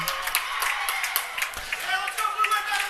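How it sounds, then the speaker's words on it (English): Crowd at an ice hockey game clapping and cheering after the Blue Jackets take a 1-0 lead, a continuous busy rush of claps and voices, moderately loud with no single voice standing out. "the crowd is going crazy"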